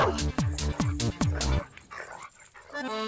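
A dog in a Tamil film scene lets out four sharp, loud barks in quick succession, followed by quieter whimpering and yipping sounds.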